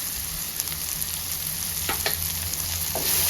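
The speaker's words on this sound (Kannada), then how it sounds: "ಟೊಮ್ಯಾಟೊ ಚೆನ್ನಾಗಿ ಸಾಫ್ಟ್ ಆಗೋವರೆಗೂ ಫ್ರೈ ಮಾಡ್ಕೊಳ್ಳೋಣ." Tomatoes with coriander powder, garam masala, turmeric and chili powder fry in a pan for a Kerala-style egg curry, giving a steady, close sizzle with a few soft stirring scrapes and no talking.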